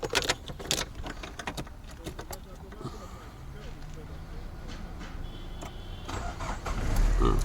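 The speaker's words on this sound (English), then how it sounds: "So the engine starts now." A Peugeot 406 engine cranks and catches after clicks and rattles, its running rumble swelling toward the end; people talk faintly in the background.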